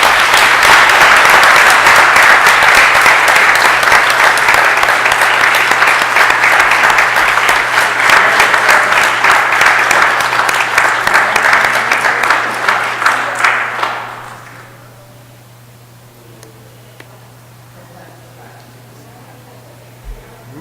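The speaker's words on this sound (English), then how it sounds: "Let's give them a big round of applause for their efforts." Sustained, loud audience applause fills a city council meeting room for about fourteen seconds before fading out, leaving a quiet room with a low steady hum and a few small knocks.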